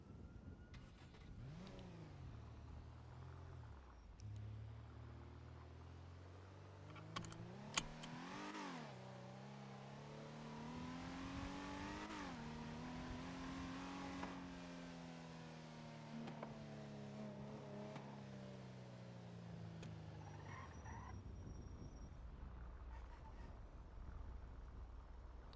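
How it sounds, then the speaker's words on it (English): A car engine in the NoPixel GTA roleplay game climbs and falls through repeated revving sweeps, loud and close, as the vehicle drives steadily before the engine note cuts off near the end. "That a local's car?"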